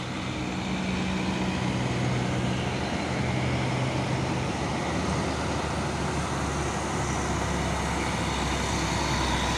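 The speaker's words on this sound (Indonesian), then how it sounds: "Dan ini juga ada satu nih truk Fuso box" A Fuso box truck passes on a busy road, a continuous mid-level engine drone blended with surrounding traffic noise, steady throughout with a faint tonal whine early on.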